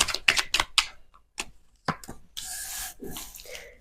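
Tarot cards being shuffled by hand, a series of crisp, brief papery riffles and taps spaced irregularly, close and soft, ending in a longer rustling swish, with no talking.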